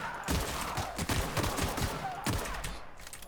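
Rapid bursts of gunfire from a gun in The Outer Worlds video game, a fast string of sharp cracks over a few seconds at moderate level, without talk.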